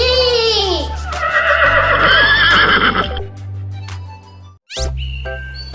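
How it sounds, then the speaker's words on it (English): A horse neighs twice in loud, close, shrill whinnies, the calls separated by a short gap, over a soft musical backing. "Horse neigh."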